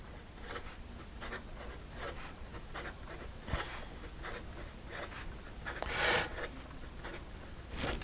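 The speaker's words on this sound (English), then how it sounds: "And then in regard to some fast writing" A Pilot Prera fountain pen scratches quickly across paper in a close, quiet series of rapid strokes and short scribbles, with brief pauses between words.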